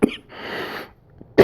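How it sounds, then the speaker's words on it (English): A man coughs, a short burst at the start followed by a wheezy exhale, then a second sharp cough right at the end, close and fairly loud in a quiet room. "Excuse my coughing."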